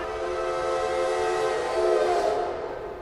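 A train whistle sounds as a sustained, piercing tonal blast at night near a hill station, swelling in loudness before it fades away.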